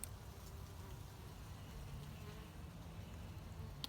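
Honey bees buzz around hives in a clover-rich yard on a warm January day, a faint steady low drone of many insects hanging evenly through the whole stretch with no talk.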